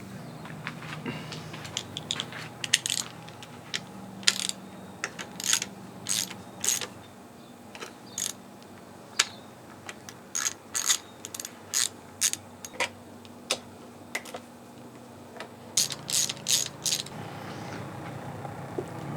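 A ratchet wrench removing cover bolts on a Parsun 60hp four-stroke outboard engine, with bursts of quick clicking ratchet strokes separated by pauses, close and clear with no talking.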